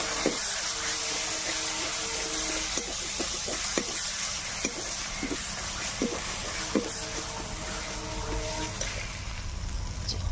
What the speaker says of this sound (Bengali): দিব লঙ্কার গুঁড়ো, দিয়ে ভালো করে নাড়াচাড়া করে নেব মশলাটাকে